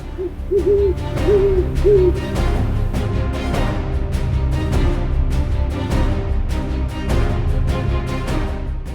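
An owl hoots in a short repeated series of clear, evenly spaced calls early on, set in an enchanted fairytale scene over a dense, rhythmic musical backdrop that continues throughout.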